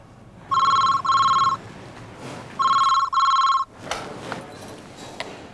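A telephone rings twice, each ring a pair of bright electronic trills, followed by faint room noise and a couple of soft knocks.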